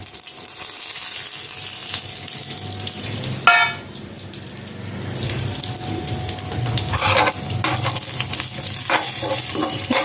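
Chopped nuts roasting in ghee in a pan for rava laddu, giving a soft sizzle with a sudden burst of crackling as they go in, then stirring scrapes over a gentle background hiss, close with no talking.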